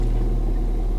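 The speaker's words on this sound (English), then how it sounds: "It's not misfiring, it's perfectly smooth." Ford Fiesta ST engine idling smoothly, a loud, steady low hum with even harmonics and no stumbles, heard up close on its own.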